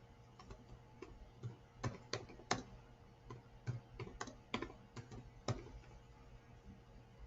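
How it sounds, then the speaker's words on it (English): Irregular clicks of computer keys being typed, close by, coming in quick bursts with short pauses between them. "I'm typing it in here."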